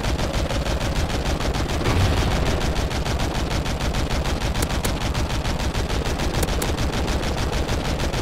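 Rapid, continuous gunfire fills a shooter video game round, a dense machine-gun-like stream of shots running steady and loud throughout with no talk.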